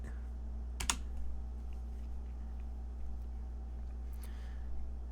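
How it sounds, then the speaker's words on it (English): Arrow keys on a computer keyboard are pressed during photo editing, giving two quick clusters of sharp clicks, one early and one near the end, over a steady low hum. "I'm going to use the arrow keys to adjust that."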